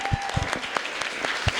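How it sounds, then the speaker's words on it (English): An audience gives brief, sparse applause at a political support event, with scattered individual claps standing out against a faint room background. "Let's take a moment to give Ilhan a huge, huge round of applause."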